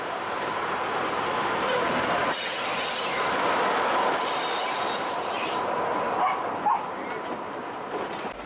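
A heritage railway train runs along the Nene Valley line near Wansford, crossing the old A1 road and the River Nene, heard as a steady rumbling roll with faint wheel squeal and a dog barking briefly.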